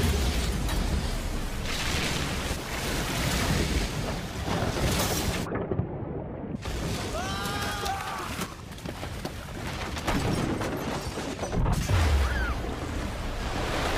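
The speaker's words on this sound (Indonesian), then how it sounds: "tiba-tiba aja nih kaca panggung mulai retak dan pecah membanjiri seluruh teater." Stage glass cracks and bursts in the animated film Sing, releasing water that floods the whole theater: loud continuous roaring rush and crashing surge, with a brief sudden dropout midway before the torrent resumes.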